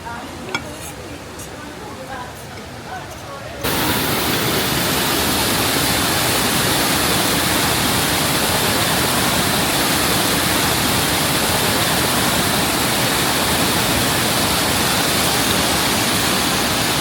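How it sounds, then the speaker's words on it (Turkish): Water rushes steadily beneath a restaurant platform built over a stream, a loud, constant broadband roar starting abruptly after a few seconds of quieter background. "Altımızdan su geçiyor."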